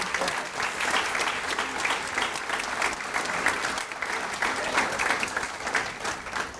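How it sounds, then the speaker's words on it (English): A banquet crowd at a scholarship awards dinner gives a loud, full round of applause, with steady continuous clapping throughout and no pause. "let's give him a big round of applause"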